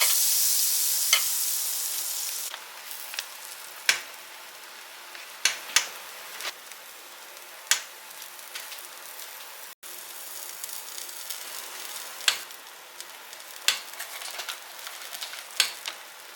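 A quesadilla frying in a pan gives a steady, close sizzle throughout, broken by sharp ticks and pops and a few stirring or scraping touches, with no talk.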